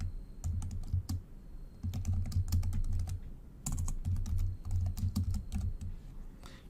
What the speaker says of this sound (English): let's type in a hint string for this text view